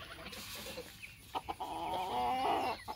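A Brahma chicken clucks and makes drawn-out, warbling vocal calls near a coop door, close and clear, with short clucks early and a longer rising call toward the end, no talk.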